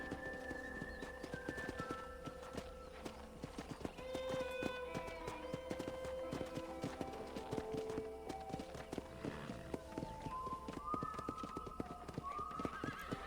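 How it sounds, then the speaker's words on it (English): Steady clip-clop of horse hooves walking nearby in the video game Red Dead Redemption, with a horse whinnying a few times over light background music. "I picked out a fine horse for you."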